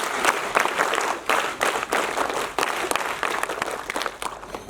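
An audience of cadets at a Sainik school Toastmasters club session claps together for a speech contest winner, a loud, dense burst with slightly rhythmic surges that holds steady for several seconds.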